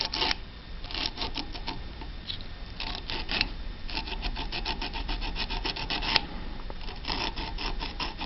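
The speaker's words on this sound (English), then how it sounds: "file that contact clean." A Revlon nail file scrapes a Jeep Wrangler turn signal flasher contact in quick, steady back-and-forth strokes, a close, dry rasping that runs in short bursts with brief pauses.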